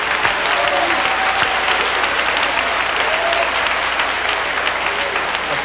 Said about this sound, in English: A shout and a clap unto the Lord